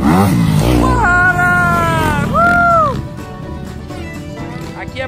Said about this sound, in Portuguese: Ó o Gordola, vem aí na moto do Elhão e o Elhão vem atrás.